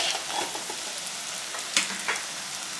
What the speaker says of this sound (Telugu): ఇప్పుడు మనం ఇందులో అల్లం వెల్లుల్లి పేస్ట్ వేసుకుందాం.